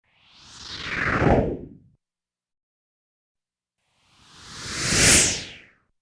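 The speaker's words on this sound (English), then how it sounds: "The tail sounds in the first and second scene were basically a cut-up loop of many different swishes" Two separate whooshing swishes of a dinosaur's tail, built from a loop of cut-up swishes, each sweeping up and fading over about two seconds, with a gap of silence between them.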